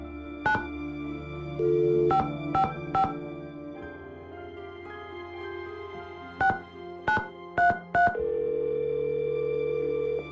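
Telephone keypad tones in the Nancy Drew game Secret of Scarlet Hand: a series of short, crisp dialing beeps in irregular groups, interspersed with longer steady tones, clear and alone.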